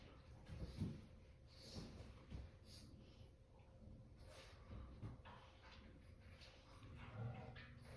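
Dogs bark and yip in the background, several short bursts scattered across the clip, fairly faint and somewhat muffled as if from another room.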